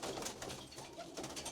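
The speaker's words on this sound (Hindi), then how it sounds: "ये बड़े कबूतर हैं जी जो कुछ जोड़ों से अलग हैं सब" Large breeder pigeons coo softly nearby, low murmuring calls repeating in short overlapping phrases against a quiet background.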